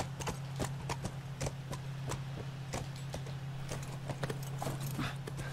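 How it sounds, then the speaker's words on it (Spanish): A horse's hooves clip-clop in The Last of Us video game, a brisk, uneven stream of hard knocks over a low, steady hum. "Pero primero... hay que bajar del caballo, digo yo."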